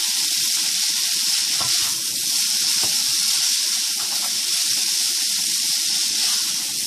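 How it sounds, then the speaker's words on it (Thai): Thai fried noodles with vegetables are tossed in a small hot pan, giving a steady bright sizzle with soft scraping and stirring clicks, close and continuous, with no talking. "เราก็จะมาคลุกให้มันเข้ากันนะคะ"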